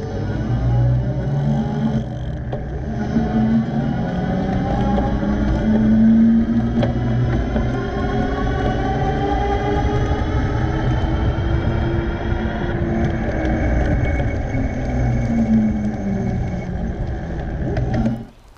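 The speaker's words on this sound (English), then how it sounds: "listen for the starting and stopping of the motor when I start and stop pedaling" Revi Bikes Rebel 1.0 e-bike hub motor whirring steadily as the rider pedals, with a continuous close engine-like drone that shifts in pitch and cuts off briefly near the end, no voices.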